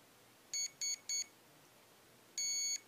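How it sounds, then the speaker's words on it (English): A HobbyWing Platinum Pro 40A speed controller sounds three short, quick electronic beeps, then after a pause one longer beep, sharp and clear over a faint hum. "I heard those five beeps. That means that the speed controller has accepted my setting."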